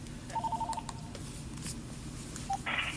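A new home telephone gives a quick run of evenly spaced dialing beeps over a low background hum, followed by a lone beep and a brief higher electronic chirp.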